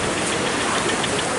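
Rain falling steadily in the Costa Rican forest, a dense, even hiss close by with no voices.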